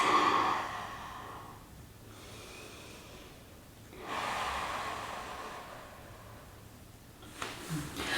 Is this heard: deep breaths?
yes